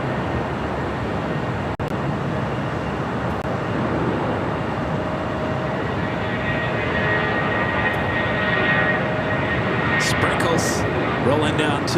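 A jet airliner rolls down runway 24 right at LAX, a steady broad engine roar that builds toward the end, with airport radio chatter over it.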